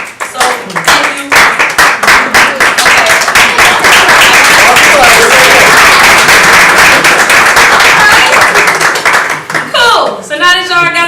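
Loud, dense audience clapping and applause at a spoken word event, starting with scattered claps, swelling into sustained applause, then thinning out as voices and laughter come through near the end.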